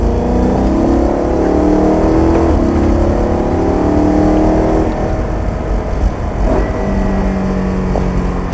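A BMW M3 accelerates hard on a race track while overtaking. Its engine holds a loud, steady drone, with rising and shifting tones under strong wind and road rumble.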